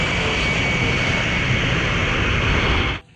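Loud, steady jet-like roar of an engine sound from a toy passenger airplane, constant for about three seconds before cutting off abruptly.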